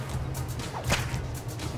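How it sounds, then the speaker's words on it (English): A whip strike in the video game Ark Scorched Earth gives one quick crack and swish in the middle, over a steady hum of game background noise. "Let's whip this guy in the face."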